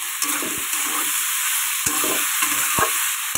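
Greens and shrimp are stirred in a frying pan, with a loud, constant close sizzle broken by a few sharp scrapes and knocks of the spoon against the pan, and no talk.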